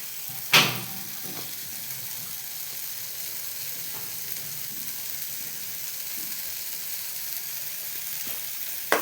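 Tomatoes sautéing in a pan make a soft, steady sizzle close by, with one sharp clatter near the start and faint stirring scrapes, no talking.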